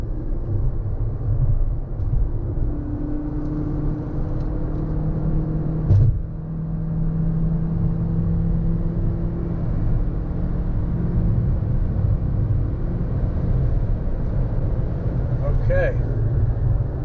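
A Toyota Prius Prime pulls hard from rest to 60 mph in power mode, a steady low engine and road drone rising under cabin rumble, with a brief thump midway and people talking inside.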